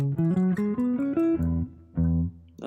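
A melodic guitar run from a song, played as a quick series of plucked notes and chord tones, moderately loud and close, alone with no talking.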